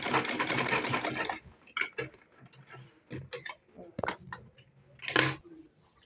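A sewing machine top-stitches a file folder in short bursts of rapid mechanical stitching, starting with a longer run then a series of brief clattering stops and starts, close by.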